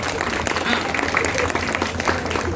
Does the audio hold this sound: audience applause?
yes